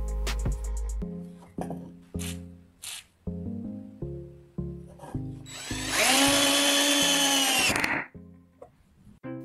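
A power drill drives a WD-40-sprayed screw into wood, with brief bursts followed by a loud, steady whirring run of about two seconds, heard close over background music.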